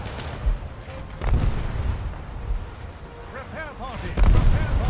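A battleship's 15-inch guns fire in a video game, with several loud, deep booms spaced a few seconds apart and rumbling aftershocks between them.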